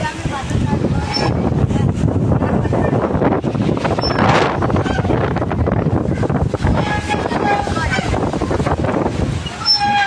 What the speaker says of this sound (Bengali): এত পরিমাণ বাতাস যে দূরে শোষো করে কানের ভিতর ঢুকে যাচ্ছে